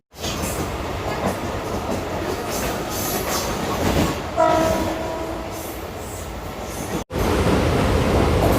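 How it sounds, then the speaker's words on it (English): Train arriving at a station on a journey from Mumbai to Coimbatore, a loud steady rumble with a brief horn blast midway and a sudden roar of ambient noise near the end. "Next train came."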